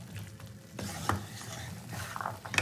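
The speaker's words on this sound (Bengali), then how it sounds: "মটরগুলো দিয়ে আমি আবারও খুব ভালো করে কষিয়ে নেব" Boiled peas being sautéed in a pan for ghugni cooked with goat fat, giving a steady frying sizzle with scraping stirs and a few clinks of utensil on metal, with no voice.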